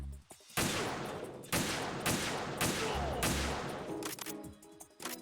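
Gunfire in Metal Gear Solid 2, a series of loud, close shots landing in separate bursts about a second apart, with clattering game effects between them.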